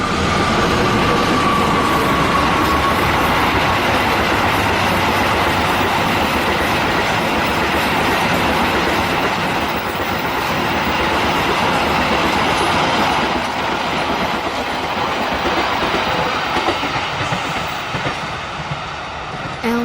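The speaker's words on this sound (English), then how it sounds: "the sound of the train approaching" A loud train rumbles close by with continuous clickety-clack of wheels on rails and a faint squeal, holding steady throughout.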